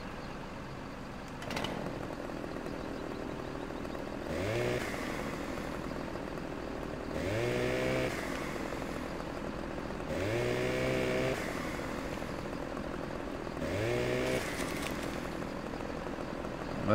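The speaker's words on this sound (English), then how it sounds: "Get out with our trusty chainsaw." Chainsaw cutting a tree in Farming Simulator 2015, a steady buzzing engine drone that revs up in repeated surges every few seconds, heard alone without talk.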